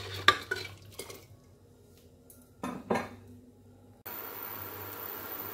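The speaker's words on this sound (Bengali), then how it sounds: "দিয়ে খুব ভালো করে মিক্সড করে নেব" A utensil scrapes and clinks against a pan while a mixture is stirred for vermicelli on a low flame, in a few short bursts between pauses, then a steady hiss of cooking takes over.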